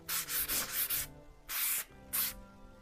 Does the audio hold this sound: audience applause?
no